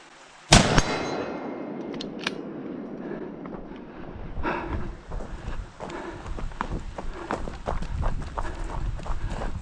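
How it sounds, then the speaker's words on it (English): During an outlaw two-gun match with a long-range combat stage, one sharp, loud gunshot cracks early, followed by hurried running footsteps, scuffs and light metallic clanks on the range. "I only got 3 shots in there."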